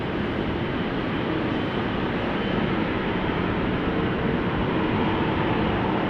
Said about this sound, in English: Meanwhile, KLM to Barcelona is coming this way.